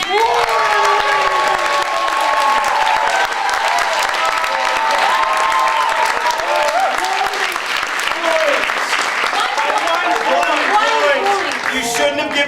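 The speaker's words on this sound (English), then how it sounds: "please give a big round of applause for your winner tonight" An improv festival crowd applauds and cheers for the night's winner, loud and continuous clapping with whoops and shouted voices rising over it throughout.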